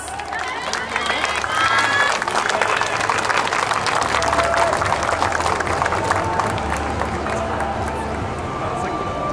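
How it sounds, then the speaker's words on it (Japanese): A dense, steady wash of clapping and crowd noise from spectators at an outdoor YOSAKOI dance festival stage in Mizusawa, Oshu, holding at an even loudness for the whole stretch with no clear voices standing out. "どうぞご声援ご手拍子よろしくお願いします。"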